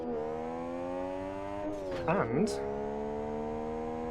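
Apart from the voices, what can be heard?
six-cylinder Porsche 911 engine revving in Live for Speed video game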